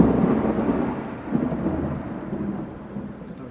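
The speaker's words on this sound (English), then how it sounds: "now it is just a downpour thunderstorm" Thunderstorm in Florida with rolling thunder and a heavy downpour, a loud continuous low rumble under the dense hiss of sheets of rain, steady throughout with no talking.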